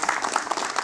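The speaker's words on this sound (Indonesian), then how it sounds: "Boleh kita berikan tepuk tangan?" Audience applause at an Indonesian candidates' debate stage event, a short burst of dense, steady clapping from a crowd with no voices on top.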